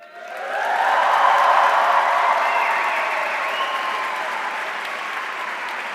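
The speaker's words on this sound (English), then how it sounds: "let's cheer to get a sense of your energy" A crowd of students at a Segovia campus welcome event cheers and applauds, swelling up in the first second and then holding a loud, steady roar of clapping and voices.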